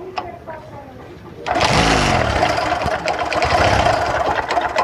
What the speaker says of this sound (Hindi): देख सकते हैं बाइक हमारी पूरी स्टार्ट हो चुकी है।